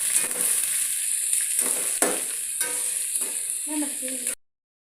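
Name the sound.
onions frying in a pan for lemon rice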